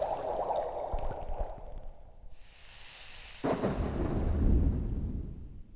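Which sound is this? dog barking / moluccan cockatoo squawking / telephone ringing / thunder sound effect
thunder sound effect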